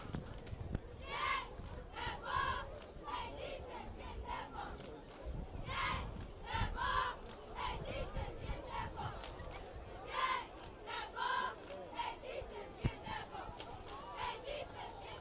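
A crowd at a high school football game between Salem and Pennsgrove cheers and chants in rhythmic bursts, loud group shouts rising and falling over a constant background murmur.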